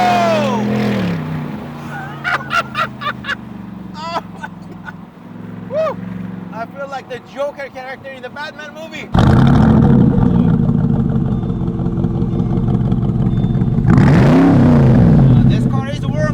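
Loud, deep exhaust revving from a warmed-up SLR 722 supercar bursts in after a stretch of nearby talking, then holds a sustained roar with a rising swell near the end.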